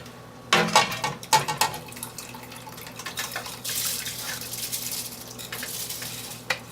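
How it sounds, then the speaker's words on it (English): Washed rice tips into a cooking pot of water for waakye, giving a burst of splashing and pattering grains followed by continuous bubbling and stirring water sounds, close and fairly loud, with no talking. "I'm going to add the rice now."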